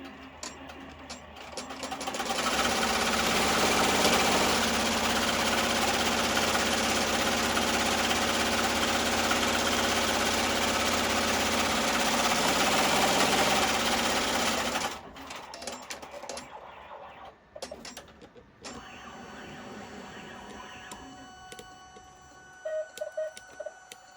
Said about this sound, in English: And now it's going to sew my box to hold it all together.